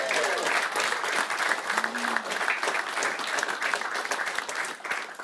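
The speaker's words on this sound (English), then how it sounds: "Give yourselves a warm round of applause." Live studio audience applause at a televised football draw event, a warm sustained round of clapping from a crowd lasting about five seconds, steady and close with faint voices underneath.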